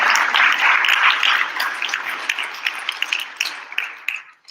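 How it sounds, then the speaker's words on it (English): Audience applause at a Bharathanatyam Arangetram dance recital, a broad wash of clapping from a crowd that is loud at first and gradually thins to scattered claps before fading out. "Give a round of applause to Nishi for everything that she's achieved today"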